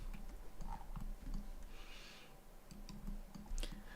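Quick bursts of mouse clicking while playing Old School RuneScape, faint and close, repeating in short rapid clusters over a low background hum.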